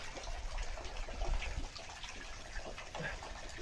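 Holy water flowing at Nag Pahadi, a hill site in Pushkar: a steady gushing, splashing rush like a running tap that fills the whole clip, with no break.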